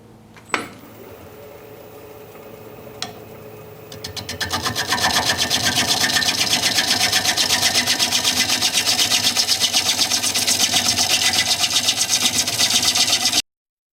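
A wood lathe turns a maple bowl as the bottom is flattened: after a couple of sharp knocks, the motor winds up into a loud, steady rhythmic whir with a rough scraping texture that continues until an abrupt stop.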